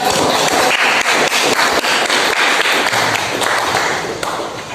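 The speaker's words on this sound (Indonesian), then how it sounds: "Ya, tepuk tangan." Students at the close of a classroom presentation clap their hands in a lively, sustained round that tapers slightly toward the end.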